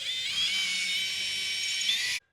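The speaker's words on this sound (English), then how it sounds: "We'll go ahead and put our drill in here." Power drill boring a hole into a wall for a curtain rod bracket, one continuous high whine lasting about two seconds before stopping abruptly.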